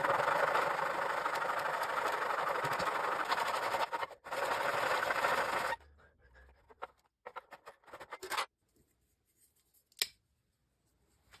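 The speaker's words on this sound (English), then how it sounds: "Now, turn it around and cut the wood at the 2 1/8 inch line." A handsaw cuts through a piece of wood for a DIY folding footrest on a rollator walker, with steady, close rasping strokes for several seconds before it stops, followed by scattered faint knocks and clicks.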